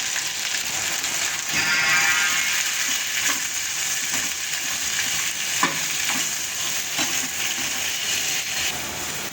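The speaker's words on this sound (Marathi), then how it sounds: "मोठ्या मोठ्या पीसेसमध्ये शिमला मिरची कांदा कट करून घेतलेला आहे तर आपल्याला हे याच्यामध्ये परतून घ्यायचं आहे" Large pieces of capsicum and onion with salt sauté in a pan, giving a steady close sizzle broken by the scrape and clatter of a stirring spoon, with no talk.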